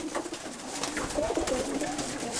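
A small, round, moulting pet dove sits in its loft and coos; soft warbling calls come up clearly over steady background hiss, with no talk.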